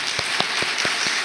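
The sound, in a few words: audience applause in church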